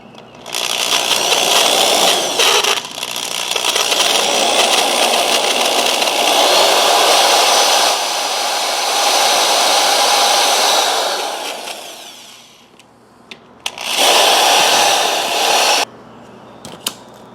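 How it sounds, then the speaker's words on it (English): A power drill bores a hole through a compact umbrella's frame held open with locking pliers, its whine running loud and steady for about twelve seconds, dropping briefly, then resuming in a shorter burst near the end. "And now I can just drill the hole."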